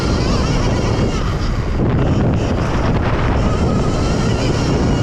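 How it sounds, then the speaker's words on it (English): Heavy wind buffeting the microphone at Cahuilla Creek motocross track, a loud continuous low roar and rumble with no break, masking any other sound. "it did get a little windy out"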